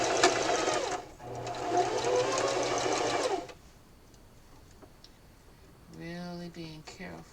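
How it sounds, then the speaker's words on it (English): Sewing machine running a straight stitch on fabric for a valentine pillow, a fast close whirring hum for about three seconds, then quiet, with a voice speaking near the end. "I'm going to use a straight stitch, back stitching at the beginning and the end of my stitches, and I am going to go slow."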